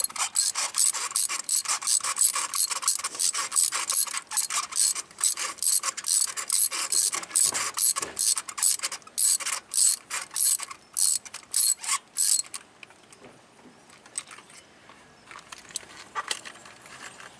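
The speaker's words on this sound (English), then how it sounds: "You just want to get the plug snug and give them just a little turn more." Ratchet wrench tightening spark plugs during an engine tune-up, a fast run of sharp metallic clicks for about twelve seconds, then quieter, sparser clicking as the plug snugs down.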